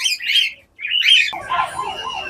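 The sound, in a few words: cockatiels calling in an aviary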